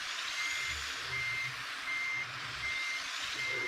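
Regular electronic reversing beeps from a video game truck repeat at an even pace over the truck engine's low rumble.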